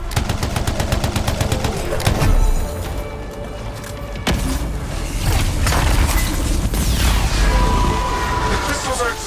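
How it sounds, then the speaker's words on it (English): Chaotic run of crystals exploding in the game Anthem, with rapid crackling bursts, booms and shattering pops over a dense, loud backdrop, and a voice speaking partway through. "The crystals are exploding."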